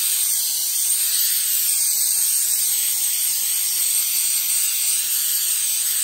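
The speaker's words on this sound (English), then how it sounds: "Our coconut spray." A continuous hiss of coconut oil cooking spray from an aerosol can, close and steady for several seconds without pause.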